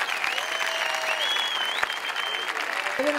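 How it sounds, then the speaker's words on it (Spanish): An audience applauds a film director at a film shoot event, with steady dense clapping sustained throughout, close and fairly loud, with a few faint voices mixed in. "Fuerte aplauso,"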